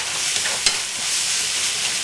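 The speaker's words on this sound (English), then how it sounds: "Now with chopsticks we're working that egg into the mixture, tossing it about." Steady, close sizzle of egg stir-frying with vegetables in a hot non-stick pan, tossed with chopsticks, with scraping and stirring movements throughout and one sharper clack midway.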